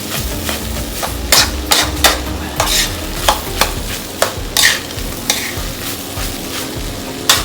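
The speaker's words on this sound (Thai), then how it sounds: "ผัดพริกนะผม" Chili with salt and fish sauce is stir-fried in a pan, a continuous sizzle punctuated by a dozen sharp, irregular scrapes and knocks of a utensil against the pan, close and loud, with no talking.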